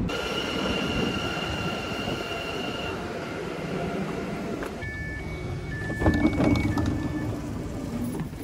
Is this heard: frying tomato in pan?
no